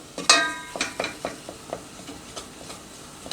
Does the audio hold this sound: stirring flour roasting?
yes